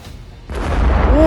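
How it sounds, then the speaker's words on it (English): A deep, rumbling boom from a gas processing plant explosion in White Lake, Michigan swells in and rolls on, followed by sustained low roar and a faint rising whistle-like tone. "Powerful explosions have occurred at a gas processing plant in White Lake, Michigan, USA."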